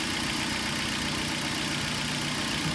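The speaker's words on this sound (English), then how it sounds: "So as we fuel that, you'll hear the engine die down and you'll see a rich mixture." A car engine idles steadily and close by while spray is fed into its air intake to force a rich fuel mixture, giving an even, continuous low rumble.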